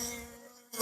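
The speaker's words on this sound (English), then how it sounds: "the bees are all around me" A close, steady buzz of a bee swarm being moved into a hive holds at a sustained pitch, then a brief burst of noise cuts in at the end.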